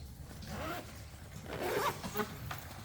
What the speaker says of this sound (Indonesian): Kita bisa resleting balik lagi posisi resletingnya.